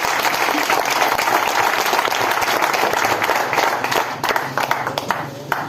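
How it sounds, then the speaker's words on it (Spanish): A church congregation claps loudly through a sermon service, a dense sustained burst of applause that thins toward the end, with a voice faintly heard beneath. "Aplauda al Señor antes de sentarse."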